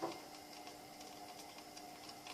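Faint, rapid snapping and ticking crackles over a steady low hiss as rhubarb chutney bubbles in a pot, with no voices.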